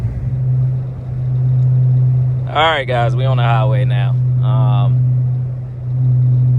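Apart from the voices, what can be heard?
Dodge Charger Hellcat widebody catless AWE track exhaust droning on highway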